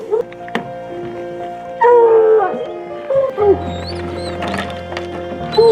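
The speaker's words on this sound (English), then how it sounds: "But the dogs are getting excited already." Several hunting dogs on a cougar hunt howl, yip and whimper in excited, uneven bursts, fairly close, with a long drawn-out howl rising in the middle.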